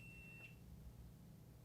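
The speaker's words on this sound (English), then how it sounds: "What's beeping? Oh, it's the camera. We ran out of battery." A camera gives a single short, faint electronic beep for low battery amid a quiet indoor room.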